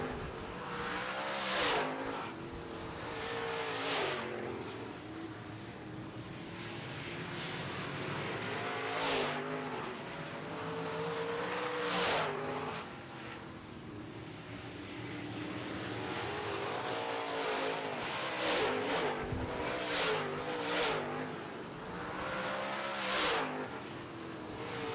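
Late model stock cars roar around a short oval track during a feature race, engines droning continuously, with repeated pass-bys rising and falling in sharp surges as the pack laps close by.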